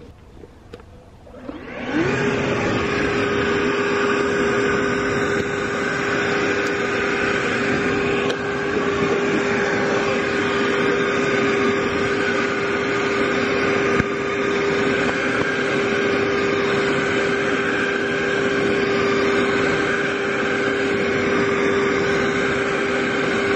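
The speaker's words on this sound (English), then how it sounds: "I cleared this much of the driveway with the Ego blower" Ego leaf blower clearing a wet driveway in the rain, starting up after a quiet moment and then roaring loudly and steadily with a constant whine close by.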